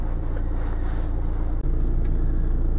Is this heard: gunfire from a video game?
no